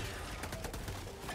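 Dense, continuous gunfire in Helldivers 2, rapid shots blasting into a cloud of dust, loud and close with no pauses across the short burst.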